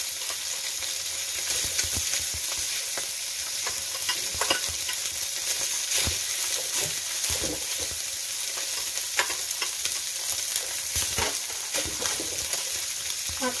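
Rice being stir-fried with squid in a pan, a steady loud sizzle with repeated scraping stir strokes throughout, no voices.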